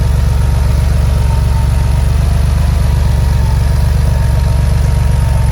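A 1983 Porsche 911SC with an M&K stainless steel muffler idles close by, a loud, even, low rumble that holds steady throughout with no voices.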